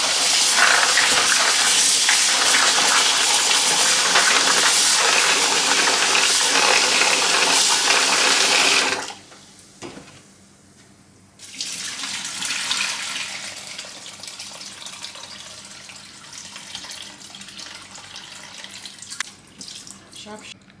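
Beans being washed in running water in a kitchen sink while preparing Nigerian akara: a loud, steady gush from the tap, a short quiet break, then softer splashing and sloshing that continues.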